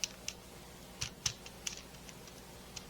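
Raisin bar dough being cut into pieces for a cookie sheet, a sparse run of short, faint clicks and taps spaced irregularly over a quiet background.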